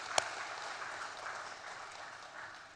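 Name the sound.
applause in a church worship service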